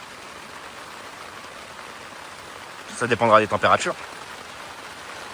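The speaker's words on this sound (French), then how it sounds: "La pluie s'est calmée." Rain falls on a tent at a crowded campsite during a trek, a steady close hiss that runs the whole time, with a short burst of French conversation in the middle.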